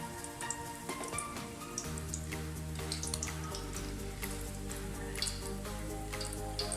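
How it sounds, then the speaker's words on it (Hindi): Chicken potato kababs frying in hot oil, a steady close crackle and sizzle with scattered pops and spits running throughout, fairly quiet, with a low hum underneath. "ये अब अच्छे तरीके से फ्राई हो गया, हम इसको निकाल लेंगे।"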